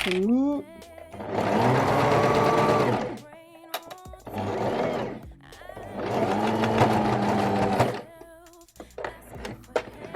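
A sewing machine stitches a seam on an Orchidée dress in two long bursts of loud, steady whirring motor hum, with a softer slow hand-driven run and pauses between them.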